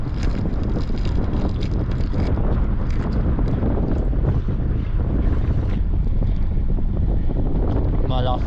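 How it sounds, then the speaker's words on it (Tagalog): Strong wind buffets the microphone on a fishing trip, a loud, constant low roar and rumble that masks everything else throughout. "Malakas na rin ang hangin."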